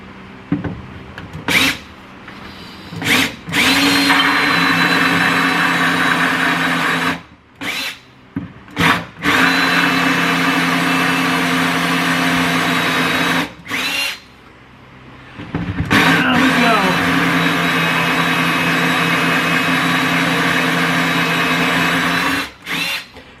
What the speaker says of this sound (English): Wait till this drill bit's poking through the other side.